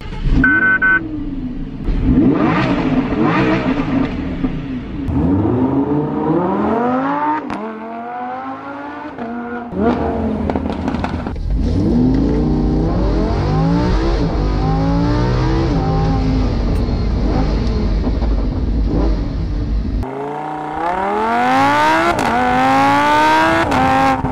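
A Lamborghini's loud, raspy straight-piped exhaust roars through repeated hard revs and long climbing pulls close by, rising and dropping in pitch with brief lulls between bursts.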